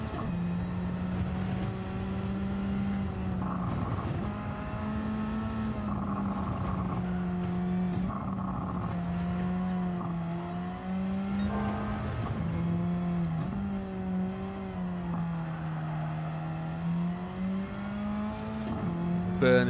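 A race car engine in Gran Turismo 7 drones steadily and loudly throughout, its pitch rising and falling through gear changes and corner exits, with faint high tyre squeal and no talk.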